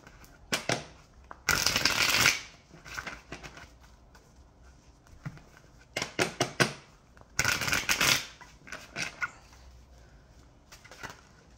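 Tarot cards are shuffled in several brisk, papery riffling bursts, close up and separated by quieter pauses with small handling sounds.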